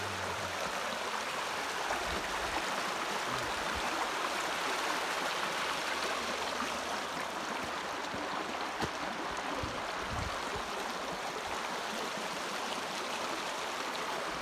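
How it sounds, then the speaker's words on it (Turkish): Water from a village waterfall rushes in a stream in Gönen, Balıkesir, a steady broadband roar that stays even and continuous throughout, with no voices over it. "Yaz kış akar bu su."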